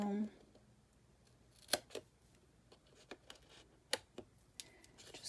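Scissors snipping a small mitered corner into card stock, a few quiet, sharp cuts spaced apart over a soft, near-silent background.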